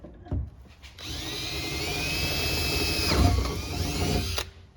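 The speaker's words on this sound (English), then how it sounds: "fixing to drill up through the roof." Power drill boring up through the roof of a 2014 Jeep Rubicon during a roof rack install, a close, whining motor that spins up, holds steady, then dips as the bit breaks through before stopping.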